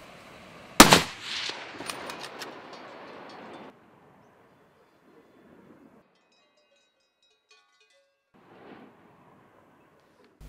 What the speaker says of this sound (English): take a quick shot from a kneeling position